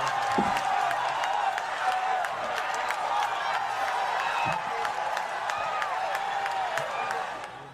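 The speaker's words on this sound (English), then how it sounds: "I was waiting for the applause to go down" A live talk-show audience applauds in a dense, steady wash of clapping close by that holds level, then tapers off at the very end.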